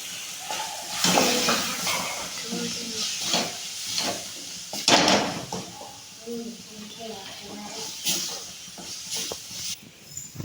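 Turmeric, fish masala and chili powder are stirred into a hissing, sizzling pan for a prawn roast, with spoon scrapes and bursts of frying heard close up under a woman's speech.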